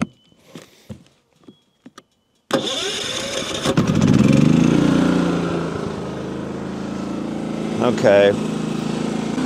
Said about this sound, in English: I think you can notice the inverter generator is pretty quiet. There's no load on it right now